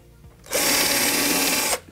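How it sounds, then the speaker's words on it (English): A power drill bores a hole through pallet-wood boards for a wall shelf, a loud, steady whine lasting just over a second after a brief quiet lead-in. "And then drill some holes in between your line."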